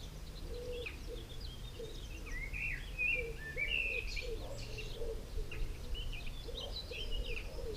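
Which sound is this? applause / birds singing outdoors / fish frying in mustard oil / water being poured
birds singing outdoors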